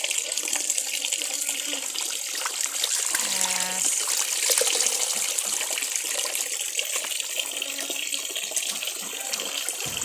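Water runs steadily and splashes in a sink or basin while fermented fish is washed to make pla ra. The flow is close and continuous, with brief gurgles as the fish is handled.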